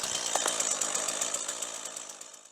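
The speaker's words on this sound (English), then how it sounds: "You constantly see the guys freehand pulling the starter and the chain runs." A chainsaw runs close by, its buzzing engine pulsing briefly then settling and fading as the chain spins down.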